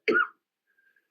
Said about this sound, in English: He is coughing like he is having a medical event of some kind.